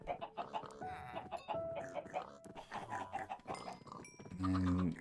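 Chickens in the Minecraft video game clucking in short, overlapping calls amid other animal noises, busy and fairly close, with a denser burst toward the end.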